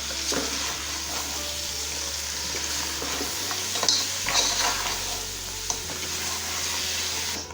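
Crab fries with a steady sizzle in a pan while a utensil stirs it, making occasional scrapes and light clinks.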